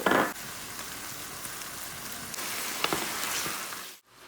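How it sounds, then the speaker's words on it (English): Ground turkey browns in a pan with minced garlic and tomato paste, giving a steady, close sizzle and crackle with a few sharper pops. It stops abruptly at the end. "Once the ground turkey starting to be brown a little bit, we're gonna add 1 little dump of garlic, minced garlic in there"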